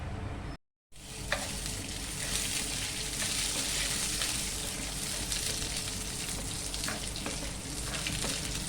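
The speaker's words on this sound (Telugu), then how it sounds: "ఇందులో జీలకర్ర, ఆవాలు, మినప్పప్పు, శనగపప్పు వేసుకొని ఫ్రై చేసుకుంటాం" Cumin, mustard seeds, urad dal and chana dal frying in hot oil, a steady bright sizzle with occasional crackles and pops, continuous after a brief cut near the start.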